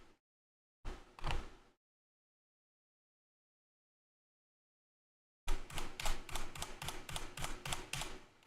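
Typing on a worn Corsair computer keyboard with one key failing, a brief burst of clacking keystrokes, then a long silence, then a fast, steady run of loud, close key presses.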